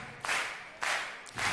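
Crowd at a Red Bull BC One 2005 beatbox battle claps along in unison, with two or three loud, broad bursts of hand claps spaced about half a second apart and no voices.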